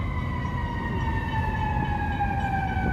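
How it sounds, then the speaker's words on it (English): Emergency vehicle sirens wail in a Chicago street, a steady tone sliding slowly in pitch, moderately distant, over low rumbling city traffic. "Always sirens. Always sirens."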